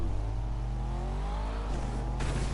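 A game car in Fortnite drives along with a steady, loud engine drone that rises in pitch as it revs, a continuous close motor hum with a brief shift near the end.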